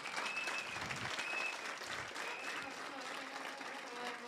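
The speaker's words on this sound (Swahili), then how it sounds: "Tafadhali muwapigie makofi mzuri kabisa." An audience at a luncheon with a governor bursts into a continuous round of applause, fairly loud and dense, with faint voices mixed underneath.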